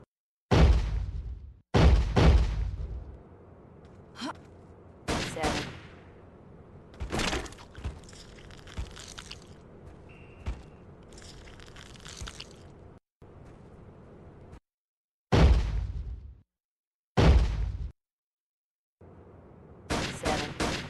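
Gunfire in the video game Jurassic Park: Trespasser, with a series of loud, sharp single shots spaced irregularly over ambient game noise and several short silent gaps.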